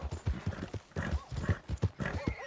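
Horse hooves in Red Dead Redemption 2 clip-clop in a brisk, even rhythm, close and clear, with faint tack jingle and a soft whinny-like tone mixed in.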